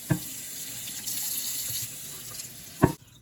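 A wooden cutting board is washed with soap and water under a running tap at a sink: an even stream of water with brief splashes and knocks at the start and near the end, then the flow stops.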